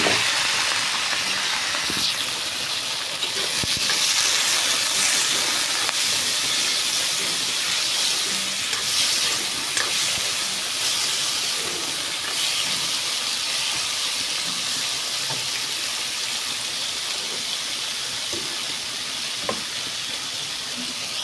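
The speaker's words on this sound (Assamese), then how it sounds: "আৰু এইপিনে ভাতকেৰেলা ভাজি হৈ আছে" Bitter gourd frying in a hot wok gives a steady, loud sizzle and hiss throughout, with occasional small crackles and no talking.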